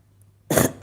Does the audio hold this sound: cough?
yes